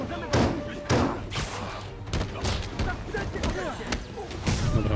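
Spider-Man on PS4 landing punches and kicks on enemies, a run of heavy thuds and impacts in quick bursts mixed with game effects, while a voice talks over the action.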